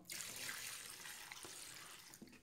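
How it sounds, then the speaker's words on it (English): Acetone poured from a bottle into a container while cleaning glue off laptop trackpads, a steady close splashing stream running for a couple of seconds with no talk. "you can see I don't have enough acetone in there, so we'll just add a bit more."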